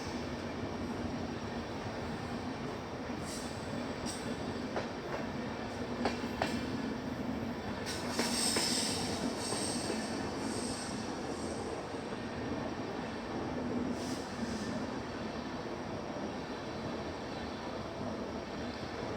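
A Pune–Ernakulam Poorna Express (11097) sleeper-class train runs at speed with a steady, loud rumble of wheels and rails, a continuous roar with brief higher rattles and squeals throughout.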